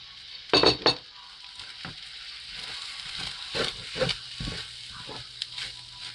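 Chicken fried rice being stirred through with a brown sauce mixture in a hot pan, steady sizzle under repeated scraping strokes of a utensil against the pan, a few louder clanks early on, no talking.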